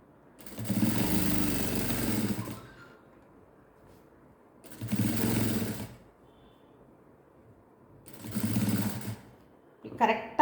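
A sewing machine stitching piping onto a blouse neckline runs in three loud, sustained bursts of about two to three seconds each, separated by quiet pauses, close up and alone.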